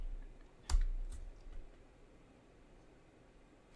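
Computer keyboard typing on a Mac, a few faint, scattered key clicks with one louder tap early on and a soft click at the end, in a quiet room.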